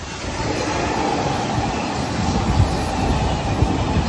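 An RER commuter train runs with a loud, steady rumble and rattle of the rail car, heard from close by for several seconds with no speech.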